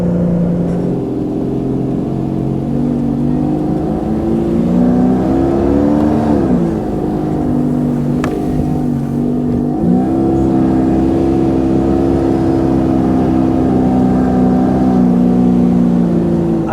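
A vehicle engine revs hard at high RPM while pushing slowly through deep snow on a mountain trip toward McKinstry Lake at about 7000 ft, a loud, continuous droning whine whose pitch rises and dips as the load changes.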